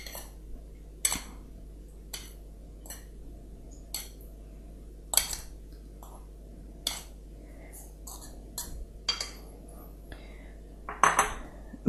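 A knife cuts room-temperature softened butter into small pieces on a plate or board, making a series of light taps and clinks of metal against the surface at an irregular pace, close by and fairly quiet, with a soft voice in the background.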